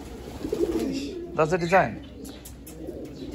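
Pigeons coo in a short, close run of rising and falling warbled calls, heard alongside people talking at an outdoor spot in Kenya.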